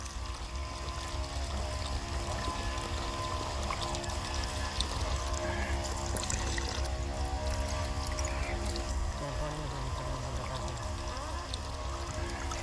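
Water from a 775 DC motor pump fitted to a hand pump pours steadily into a glass, a continuous close splashing stream with a faint motor whine underneath and no talk.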